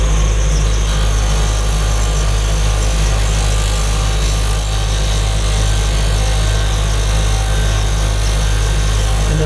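Wood lathe spinning an off-center pendant at 3000 rpm, a loud continuous motor hum with a steady low drone and faint rhythmic flutter throughout, no voices.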